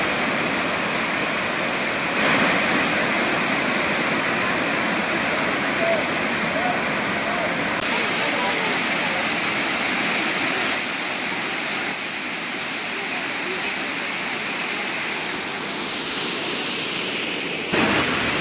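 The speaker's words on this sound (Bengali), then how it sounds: "চলে আসলাম তোপচাঁচি লেকে ঝর্ণার ধারে" Waterfall at Topchanchi lake in Dhanbad, Jharkhand pours in a steady, loud broadband roar of falling water, continuous and close for the whole stretch, with no voices over it.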